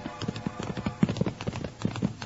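Horses' hooves clip-clopping as a radio drama sound effect in an old-time Western, a steady fairly loud rhythmic plodding of several hooves close by.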